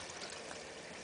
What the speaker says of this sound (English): There goes the pump in the window well right here.